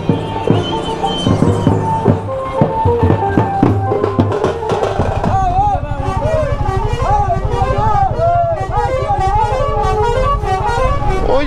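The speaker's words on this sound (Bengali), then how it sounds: "বললাম না বাসগুলো হাঁকায়।" Buses on a road from Kolkata toward Digha and Mandarmani, heard from a Himalayan 450 motorcycle over a rumbling engine, with a loud, wavering horn blaring repeatedly in the second half.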